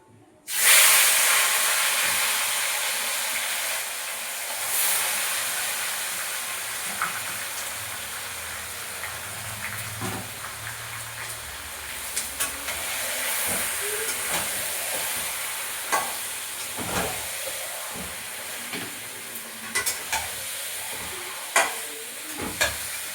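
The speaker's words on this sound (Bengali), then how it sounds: "মাংসটা আমি ম্যারিনেট করে রেখেছিলাম আধ ঘন্টা হয়ে গেছে তো মাংসটা এখন দিয়ে দেবো তেলটা গরম হয়ে গেছে" Marinated meat hits hot oil in a pan, giving a loud, steady sizzle and hiss that runs throughout, with scattered stirring clatters and clinks.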